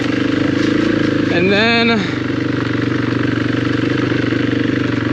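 Steady motorcycle engine drone while riding along a beach, loud and continuous with wind rumble, a voice briefly talking over it.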